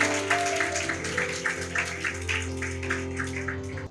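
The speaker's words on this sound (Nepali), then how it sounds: "जोडसँग ताली बजाउन सक्नुहुन्छ येशूको लागि" A church congregation at a Nepali Sunday service applauds for Jesus, a continuous patter of clapping blended with sustained musical tones, fairly faint and steady throughout.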